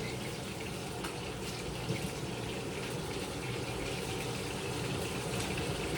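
Tap water runs and gushes steadily over salted dried tilapia (daing) in a home kitchen to wash out the salt, a continuous close splashing fill with no talking.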